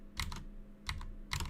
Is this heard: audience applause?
no